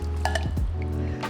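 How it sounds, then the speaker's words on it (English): Coconut milk is poured into a hot pan while cooking, giving a brief wet splash and squishy pour with faint clinks of the pan, close and alone with no talk. "And we're gonna go ahead and add our coconut milk."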